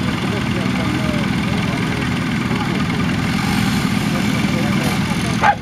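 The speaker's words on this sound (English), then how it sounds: "And then the back of Graham Hill himself in the wheel of his Leyland 4100, 100 horsepower, 4-wheel drive." A Leyland 4100 tractor engine, 100 horsepower four-wheel drive, rumbles steadily at idle, a low continuous drone close by with little change in level throughout.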